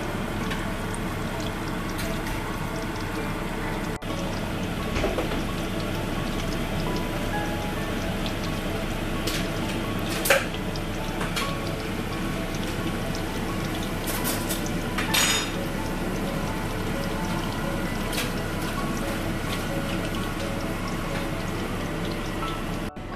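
Kurri pakoras fry in hot oil with a soft, continuous bubbling sizzle, steady and fairly quiet throughout, broken by a couple of faint clinks.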